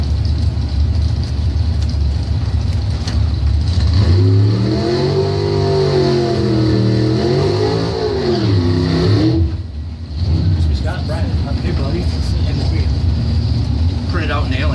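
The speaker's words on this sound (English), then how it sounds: "this is the dragster out of Traverse City," A drag-racing dragster from Traverse City revs and accelerates with a loud, wavering engine roar whose pitch rises and falls, while a voice talks over it.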